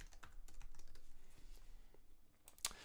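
Quick bursts of keystrokes on a computer keyboard while entering an effect name in Premiere Pro, close and fairly loud, a steady run of clicks ending with a sharper tap near the end.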